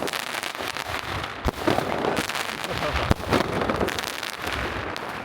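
Fireworks going off in a city street on Russian New Year, with dense, continuous crackling and popping and a couple of sharper nearby bangs inside a loud, busy outdoor din.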